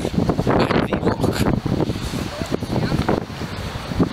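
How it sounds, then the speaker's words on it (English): Ocean waves and gusting wind buffet a microphone on a high coastal rock at sunset, a steady rushing wash with rumbling surges throughout. "Just listen to those waves and the wind and whatever"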